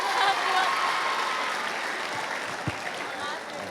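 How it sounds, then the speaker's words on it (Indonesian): Students at a high school gathering applaud a classmate, a soft sustained patter of clapping from a crowd with a few sharper claps standing out. "tepuk tangan untuk temanmu."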